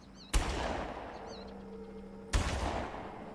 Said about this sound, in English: Oh, that's a headshot.